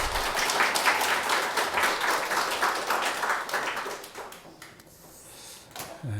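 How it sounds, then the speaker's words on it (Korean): A church congregation at a Sunday worship service gives a round of applause, dense clapping that carries for several seconds before thinning out and dying away. "우리 하나님께 감사와 영광의 박수 올려드리겠습니다"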